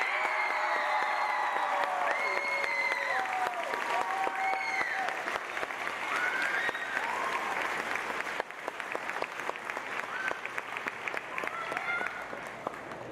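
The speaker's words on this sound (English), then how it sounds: "one more round of applause for our 8+2" Sustained applause from an audience at a school CTE academic awards ceremony, steady dense clapping with a few whistles and cheers, continuing at full strength for the whole stretch.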